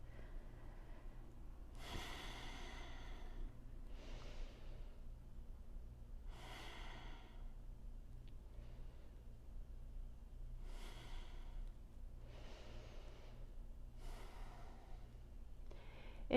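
Deep, slow breaths in a yoga pose, about seven distinct airy inhales and exhales spaced a couple of seconds apart, close and quiet against a faint low hum.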